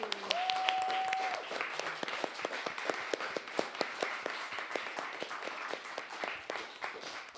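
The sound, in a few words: audience applause for technical crew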